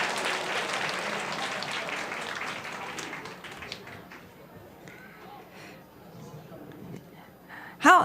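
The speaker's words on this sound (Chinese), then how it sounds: "掌声鼓励" Congregation clapping at a joint Father's Day church service, loud at first then thinning and fading into quieter room noise with scattered movement.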